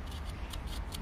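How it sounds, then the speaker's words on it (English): Scissors snip through a paper Moebius strip in a quick series of about four crisp, close cuts, with a soft rustle of paper between them. "I can insert the scissors, and I cut until the end."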